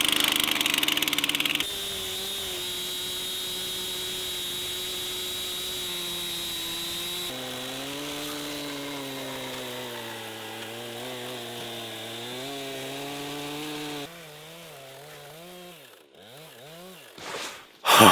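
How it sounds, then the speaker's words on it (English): A chainsaw idles, then revs hard and bites into wood with a wavering, straining whine, finishing with a few sharp bursts before cutting off. "let's fire up the chainsaw and see if I measured everything correctly"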